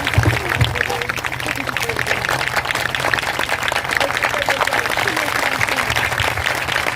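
A church congregation claps loudly and steadily for the whole stretch, a dense, even wash of hands with voices mixed in.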